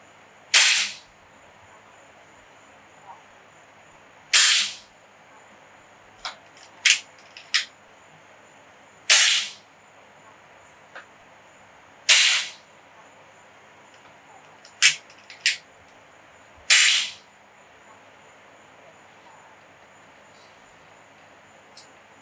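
AEA Challenger Pro .30 caliber air rifle firing heavy 68-grain Javelin Gen 2 slugs in a backyard: six sharp, loud cracks spaced a few seconds apart, each followed by a fainter click or impact, with quiet between shots.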